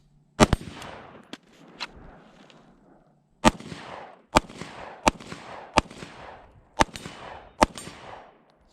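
Pistol shots fired at close range, about eight sharp cracks with ringing decays, spaced unevenly with brief pauses and some quick pairs.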